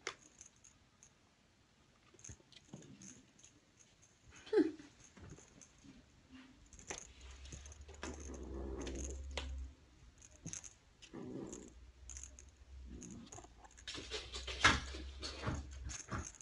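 A small dog growls low and rumbling while guarding a purple toy mouse, the growls coming in two stretches amid pattering paws, clicks and soft whimpers nearby.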